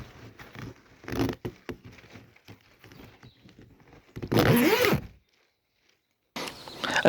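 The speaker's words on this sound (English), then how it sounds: "these zippers have rounded corners, so it can be quite difficult to get these zippers to go around the corner" A zipper is run along the rounded corners of a hammock bug net in short scratchy pulls and rustles, with a louder drawn stretch, a brief silence, then more zipping.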